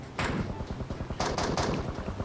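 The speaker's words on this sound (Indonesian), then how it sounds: "Tembak, mati dia, Cal." Rapid automatic gunfire in the mobile game PUBG Mobile, a fast close burst of loud shots in quick succession, pausing briefly and then resuming.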